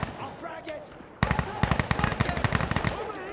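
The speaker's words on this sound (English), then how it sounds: "mag dumping a full auto AK in a confined space" A full-auto AK emptying its magazine in a confined space in the video game Insurgency Sandstorm: after a quieter start, a loud, rapid, continuous burst of close gunfire hammers on for about two seconds.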